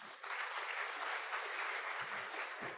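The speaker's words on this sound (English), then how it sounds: "Please give applause to all the speakers" An audience at an energy transition conference applauds the panel speakers, a dense, even wash of clapping that holds steady for a few seconds at moderate distance.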